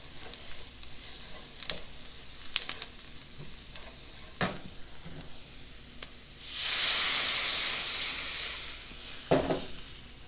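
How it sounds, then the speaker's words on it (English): Onion gravy with beef broth stirred in a pan: intermittent scraping taps of a utensil, then a loud several-second burst of hissing sizzle before the stirring clicks resume, with no talking. "And you're just going to stir it around till it thickens."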